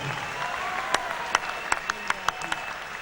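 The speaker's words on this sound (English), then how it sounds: "And a round of applause for the man out of the red corner, Taivita TNT Tai." Short burst of crowd applause after a K1 kickboxing fight result is announced, with scattered sharp claps popping out of a steady clapping wash and a few cheers, for about three seconds.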